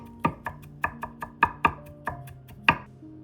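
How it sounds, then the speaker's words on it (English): A knife finely mincing three garlic cloves on a cutting board, about a dozen sharp, close chopping taps in an uneven rhythm with short pauses between, no talking. "Then finely mince 3 cloves of garlic."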